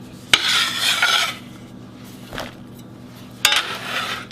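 Chopped mushrooms and onion are scraped into a bowl with a utensil, in two loud scraping bursts with a brief clink between them, close up and without talk.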